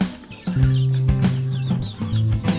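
Chickens cluck close by in short repeated calls, mixed with ducks on a small backyard farm, with faint chirps overhead.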